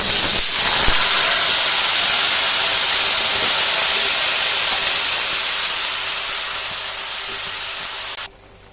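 Bottle gourd hits hot oil tempered with panch phoron spices, setting off a loud, dense, continuous sizzle and hiss that slowly tapers before cutting off abruptly near the end.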